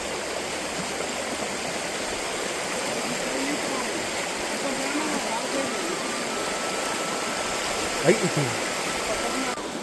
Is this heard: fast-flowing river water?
yes